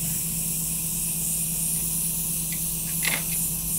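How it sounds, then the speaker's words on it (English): A makeup airbrush gun blows air to mix foundation colours inside it, giving a loud, continuous close hiss with a few faint clicks near the end. "So I'm just blowing air into the gun and it mixes the colors around."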